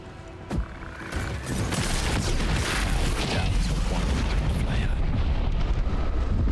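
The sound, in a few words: alchemist's fire explosion in the video game Baldur's Gate 3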